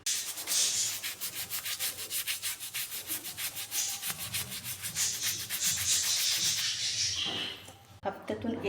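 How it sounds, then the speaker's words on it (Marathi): An old brush scrubs a metal surface clean, steady rapid back-and-forth rubbing strokes close up, continuous for several seconds before pausing briefly near the end. "आता जुना ब्रश घ्यायचा आहे आणि याच्याने हे मस्त असं घासून काढायचं आहे."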